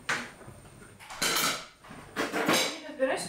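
Spoons and other cutlery clatter against dishes in a few loud, bright bursts, close by, with people talking around them.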